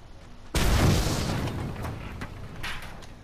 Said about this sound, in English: That needs an explosion, doesn't it?